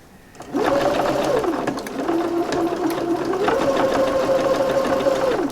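A sewing machine stitches a bag, running loud and steady for about five seconds with a pitch that drops and rises as the stitching reverses for backstitching, with no talking.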